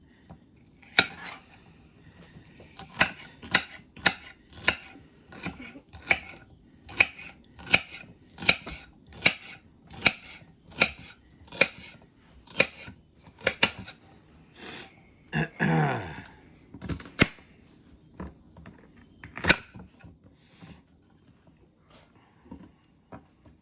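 Vegetable stalks cut in half with a knife on a board while making Bolognese, giving a long run of sharp, evenly spaced chops, close and crisp, with a brief rustle midway.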